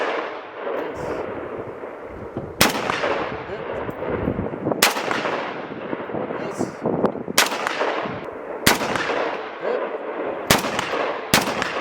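Sharp, loud single rifle shots from a Galil ARM fired from a bipod at about 70 meters outdoors, spaced irregularly at roughly one to three seconds apart, with echo and background noise between them.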